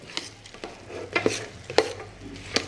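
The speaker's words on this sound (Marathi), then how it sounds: "एक अर्धा मिनिट हे परतून घेऊया" Boondi ladoo mixture being sautéed in a pan, with soft scraping and stirring strokes that recur at irregular intervals over a faint, steady sizzle.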